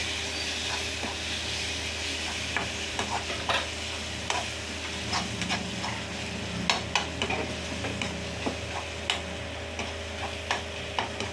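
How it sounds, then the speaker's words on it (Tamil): Garam masala and chili powder stirred in a hot pan while making egg idli: an even background sizzle with frequent sharp spoon taps and scrapes, growing busier toward the end. "நீங்கள் கரம் மசாலா, மிளகா பொடி கொஞ்சம் சேர்த்து கிண்டிக்கோங்க."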